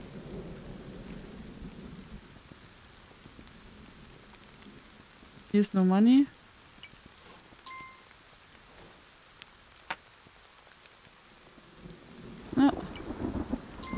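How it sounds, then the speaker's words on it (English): Thunderstorm with rain in the video game Kingdom Two Crowns: a steady low rain hiss runs throughout, with a sharp rumbling thunder burst about midway and another near the end, under brief speech. "It's like a real storm there."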